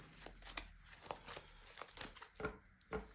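Tarot cards are shuffled by hand in soft, irregular riffles and papery crinkling bursts, close and faint in a quiet room with no talking.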